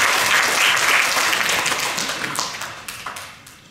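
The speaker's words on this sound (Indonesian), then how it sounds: "Tepuk tangan dulu buat Pak Herman Sen dan Pak Yunus Sodomo." An audience at the opening of a student para-sports event applauds Olympic-class boxers, loud dense clapping that starts at full strength and gradually thins out, ending with a few scattered claps.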